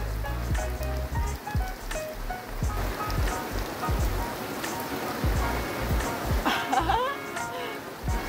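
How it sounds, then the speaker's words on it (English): A rainforest shower in Brazil patters steadily on surfaces close by, a constant wash of drops with scattered louder splashes and occasional faint background sounds. "we are enjoying one of these awesome rainforest showers here in Brazil"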